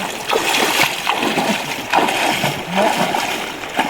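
A cast fishing net hits water in a close, loud run of splashes and sloshing that lasts a few seconds, with no talk over it.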